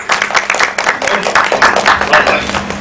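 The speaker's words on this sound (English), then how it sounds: "Please welcome him on stage with a round of applause." An audience at a film trailer launch event claps and cheers to welcome an actor onto the stage, a dense, steady burst of applause lasting throughout with scattered voices mixed in.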